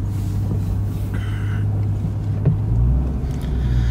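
Car with a stock supercharged LSA V8 running, giving a steady, deep idling rumble close by, with a brief higher whine early on and no voices.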